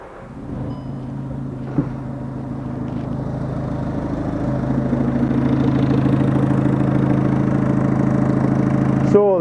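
A turbocharged car engine with a failed turbo, heard close in its engine bay, starts and settles into a steady idle whose hum grows a little fuller over several seconds.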